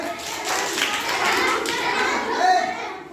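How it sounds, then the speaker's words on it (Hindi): Children clap together in a classroom, a dense patter of many small hands with young voices chattering over it. "ताली बजाइए"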